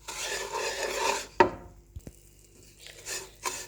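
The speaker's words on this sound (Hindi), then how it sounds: "अब इसको मिक्स करूंगी इस तरह से, हल्का हल्का मिक्स करेंगे इसको।" White and brown sugar stirred together in a bowl: a few scraping, gritty strokes with a sharp clack of the utensil against the dish, close and fairly quiet, no talk.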